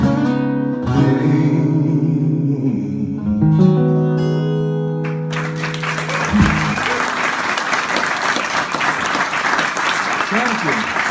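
Audience applause breaks out after a live performance of a song, starting about five seconds in as the final sung and played notes fade, then continuing as a steady, dense clapping through to the end.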